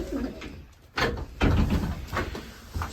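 Pigeons coo in a breeding loft, a few soft throaty calls close by, with a couple of sharp knocks like a door or cage movement in between.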